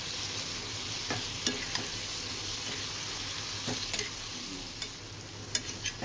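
Fried potatoes in a spice paste for a prawn curry, sizzling quietly in a pan with a steady low hiss and occasional light scrapes and taps from stirring.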